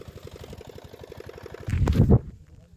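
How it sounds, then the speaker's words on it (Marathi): An engine runs at a farm at dusk, a steady low idling throb with regular pulses, joined near the end by a brief louder burst of mixed noise before it quietens. "इथं बघू शकता इंजिन चालू आहे."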